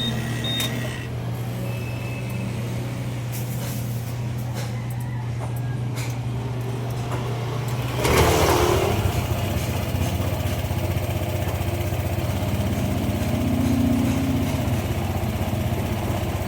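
A Honda PCX 160 scooter engine with a stalling fault idles steadily with a low hum, then revs up sharply around the middle and keeps running with a rougher, louder rumble.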